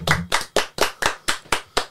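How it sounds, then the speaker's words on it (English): Eight sharp hand claps at an even, quick beat, close and loud, each cutting off cleanly, with no talking over them. "Everybody clap your hands."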